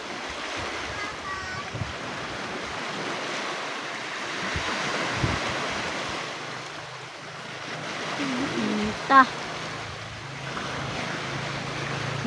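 Sea waves roll onto a beach at low tide in Jagna, Bohol, as a steady broad wash of surf mixed with gusty wind noise on the microphone, rising and falling over the whole stretch, with faint voices now and then.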